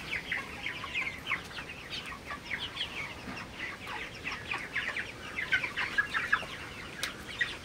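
Broiler chickens on a farm in cold weather cluck and chatter continuously, a busy flock of overlapping calls at moderate distance with no talk.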